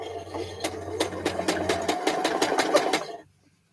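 A sewing machine stitches a fabric seam in a quick, even run of needle clicks with a mechanical whir beneath, close and fairly loud for about three seconds before stopping abruptly.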